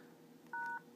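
A single short DTMF keypad tone sounds as the star key is pressed on a smartphone dialer, a clean dual-pitch beep lasting about a quarter second amid faint background hiss.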